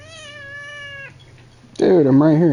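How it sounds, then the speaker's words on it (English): Dexter the pet cat meowing loudly and close, one long steady meow, a brief pause, then a second wavering yowl. "if you hear meowing, it's probably my cat, Dexter"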